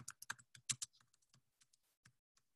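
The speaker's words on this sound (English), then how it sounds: "I'm just typing a quick message." Quick, light key clicks tapping in short bursts, close by and quiet, then slowing to a few scattered keystrokes.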